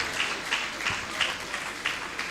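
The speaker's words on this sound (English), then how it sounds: "A round of applause." A graduation ceremony audience applauds a graduate at a prison inmates' tertiary education congregation, producing a soft, thin patter of scattered claps, distant and brief.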